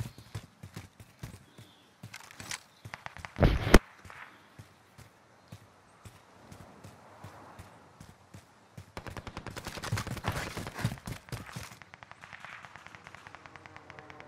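Video game gunfire as a four-player team is shot up on a hill, rapid bursts of shots and crackling reports in clusters, some near and loud, others distant, with a sustained volley in the later part.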